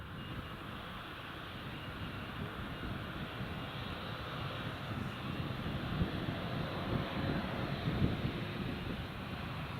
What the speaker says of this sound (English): Here goes the TUI Dreamliner.